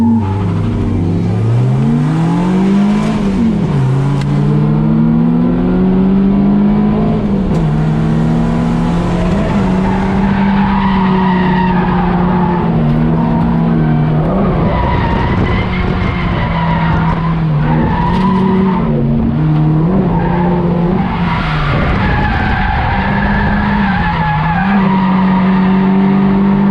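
A drift car on track at Sonoma Raceway, a Nissan with a KA engine, skids through long slides with a loud, sustained engine drone and rising and falling revs, tires squealing almost continuously with no talk.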